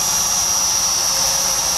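An SG900 drone with optical flow positioning holds a steady hover, its motors giving off a continuous high-pitched whine and broadband rush that stays loud and even throughout, with no talk over it.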